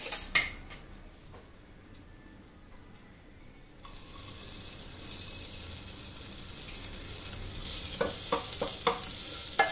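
Chopped spring onions are stirred into a frying pan of sizzling crushed ginger, with a utensil scraping and clinking against the pan in bursts over a soft, continuous sizzle.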